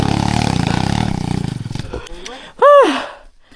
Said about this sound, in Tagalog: Wa nasaktog hunat ni Kuya Charlie, sangit gyud ihang makina diri.